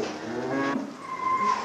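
Cattle moo on a farm in 1980s rural Italy, a couple of low drawn-out calls close by, one after another with no talking.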